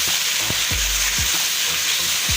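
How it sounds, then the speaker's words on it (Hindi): Tomato paste going into a sizzling mutton liver masala with peas: a loud, steady frying hiss fills the pan, with a few low thumps of stirring beneath it and no talking. "ये टमाटर का पेस्ट शामिल कर रहे हैं"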